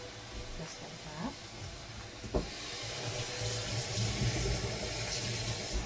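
Tap water runs steadily into a sink while synthetic hair bundles are rinsed, a soft continuous splashing flow that swells toward the end, close and moderately quiet, with no speech over it.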